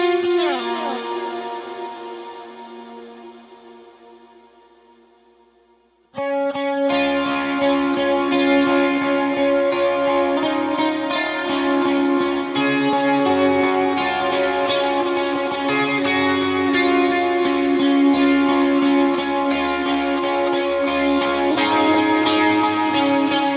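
A clean electric guitar lead for a song with chorus effect and no drive rings out: a single sustained chord fades for several seconds, then a shimmering, echo-laden melodic line plays steadily and fairly loud.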